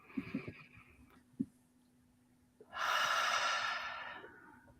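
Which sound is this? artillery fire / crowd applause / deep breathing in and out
deep breathing in and out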